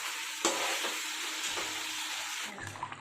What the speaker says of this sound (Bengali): মাংসটা কষছে সব মশলা দিয়ে।